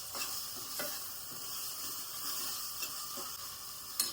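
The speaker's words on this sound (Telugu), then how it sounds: "ఇందులో ఒక 2 టేబుల్ స్పూన్స్ దాకా అల్లం వెల్లుల్లి పేస్ట్ యాడ్ చేశాను. సో దాన్నంతా ఒకసారి తిప్పేస్తుంది" Ginger garlic paste frying in a pan while being stirred, a faint continuous sizzle with occasional soft spoon scrapes and taps, close and without voices.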